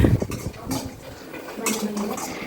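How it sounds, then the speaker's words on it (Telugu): Coconut pieces frying in a little ghee in a pan, with scraping and clinking of a utensil against the metal under a steady low sizzle, close and moderately loud. "ఇప్పుడైతే కొబ్బరి ముక్కలు వేసుకుని మా చెల్లి ఫ్రై చేస్తుంది"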